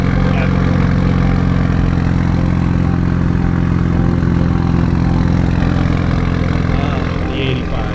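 A Mitsubishi EVO 8 idles close up with a deep, steady rumble from its engine and exhaust, holding an even, continuous note throughout with no talk.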